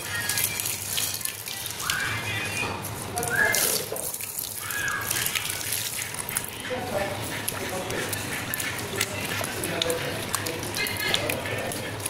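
Steady running water pours continuously while something is rinsed until the water runs clear, a constant splashing wash with a few louder surges, and a voice talking over it.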